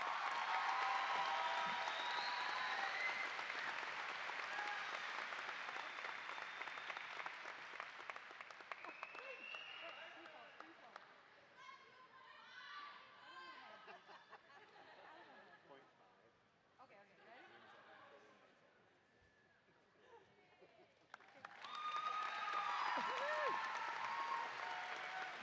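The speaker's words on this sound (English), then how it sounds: "How about another round of applause for your faculty speaker, Sammy Webb?" A high school graduation crowd applauds in a large venue, the clapping dense at first, then thinning and fading before a fresh loud burst near the end, with cheers and shouted voices mixed through it.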